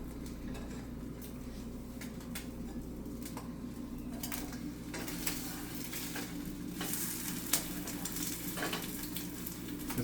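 An egg fries in a pan on a stovetop, giving a steady close sizzle with occasional scraping and utensil clicks. It runs continuously with no talking.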